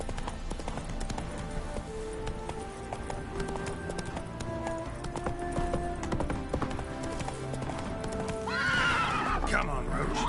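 Roach the horse galloping in The Witcher 3, rapid hoofbeats with a whinny near the end, set among game music and voices.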